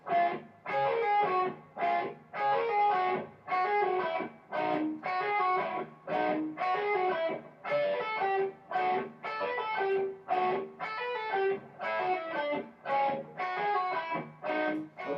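Electric guitar playing the riff, a steady run of rhythmic chord strums and picked phrases in short repeated bursts, close and clear with no talking.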